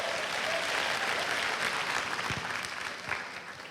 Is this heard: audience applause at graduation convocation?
yes